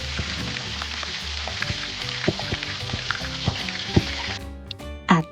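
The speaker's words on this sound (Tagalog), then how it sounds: "Iprito ulit ang magkabilaang bahagi hanggang sa mas lalang crispy ang balat" Crispy pata, a whole pork knuckle, deep frying in hot oil: a steady, dense sizzle with bubbling pops, close and loud throughout, with a few sharper crackles and a clatter near the end. No one speaks.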